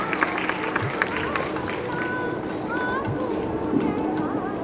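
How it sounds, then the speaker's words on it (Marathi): Applause from an audience at a devotional bhajan group gathering at Ghrishneshwar, Verul, a steady dense patter of clapping that fills the room throughout with faint crowd murmur beneath. "माऊलीसाठी जोरदार टाळ्या टाळ्या द्या"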